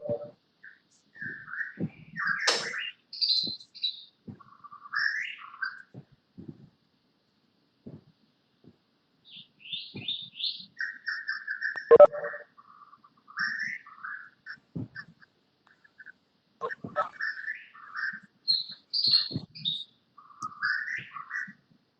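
A White-rumped Shama singing, rich varied whistles and chirpy phrases in repeated bursts with short pauses, clear and close against a silent background.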